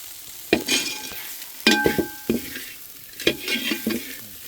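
Coriander powder masala sautéing in a pan, with repeated sharp spoon scrapes and knocks against the metal over a light sizzle, coming in irregular bursts, no voices.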